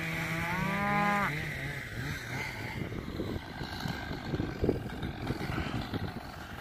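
A cow bellows loudly once near the start, a drawn-out low moo, followed by steady outdoor rumble and patter of rain.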